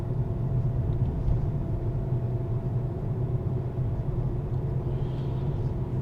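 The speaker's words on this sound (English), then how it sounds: "Fairly good moving traffic now." Steady road traffic rolling past a moving car on a road near Playa Paraíso, a continuous low rumble of engines and tyres that stays fairly even throughout with no talk.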